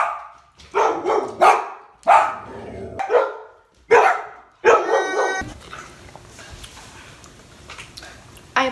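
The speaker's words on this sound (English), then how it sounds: "The dog is barking." A dog barking indoors, about six loud close barks in an uneven series, some yappy and some deeper, followed by quieter background noise and a last bark starting at the very end.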